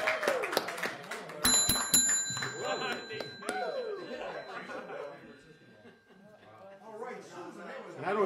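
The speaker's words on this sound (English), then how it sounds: "I don't use that bell very often." A lounge show host rings a small bell at a live Friday lounge performance, its bright tones ringing out clearly amid chatter, chuckles and audience noise, with people talking throughout.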